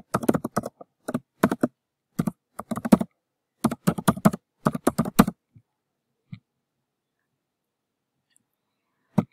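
Someone types an email address on a computer keyboard: quick bursts of close, crisp keystrokes for several seconds, then two lone taps before quiet.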